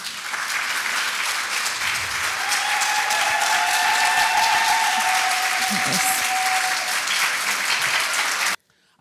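Audience at a modeling event in Cameroon applauding the models, with a sustained, dense wave of clapping from a large crowd that holds steady for about eight seconds before stopping abruptly.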